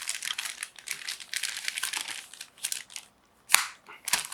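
Cardboard and plastic packaging is ripped open while unboxing a Lenovo ThinkPad T480s laptop, with a series of close crinkling tears followed by a sharp snap and a final quick rip.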